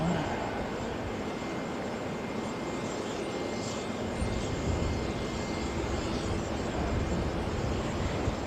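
A Qantas airliner on flight 176 to Adelaide taxis at Auckland International Airport, its engines giving a steady, moderately loud broadband rumble that swells slightly partway through.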